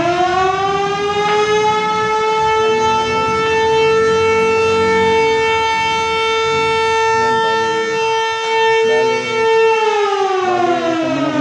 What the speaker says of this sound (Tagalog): tumunog na yung sirena